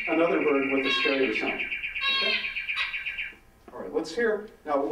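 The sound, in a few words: zebra finch call played back from a recording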